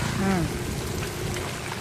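Heavy rain pours over flooded streets in Narsapuram as a steady, dense hiss of falling water, with a brief voice near the start.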